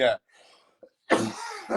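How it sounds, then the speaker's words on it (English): A person's harsh cough bursts out once, then after a short gap a longer hacking cough follows, close and loud, with brief breathy sounds in between. "this fucking cough, I swear down"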